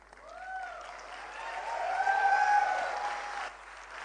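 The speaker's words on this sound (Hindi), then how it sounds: "इस स्लाइड पे सबकी तालियां बजेंगी हैं।" Audience applause at a Forever Living business workshop, a steady wash of clapping that swells to a peak midway and then tapers off, with no talking over it.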